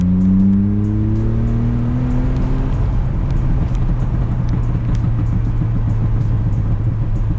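A tuned BMW E46 engine hums and drones while driving, a loud low rumble with a rising rev at the start settling into steady cruising tone.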